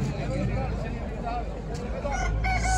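A rooster crows amid chicken market hubbub in Kırıkkale, Turkey, with other chickens clucking and people talking nearby.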